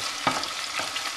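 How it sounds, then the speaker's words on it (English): Eggplant pieces stirred through hot frying oil in a pan over medium heat, a faint steady sizzle with two soft scraping stirs close by, no voices. "Give that a good mix."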